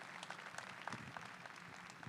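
Audience applause at the opening ceremonies of a FIRST Robotics district competition in Albany, a faint, steady patter of clapping in a large hall.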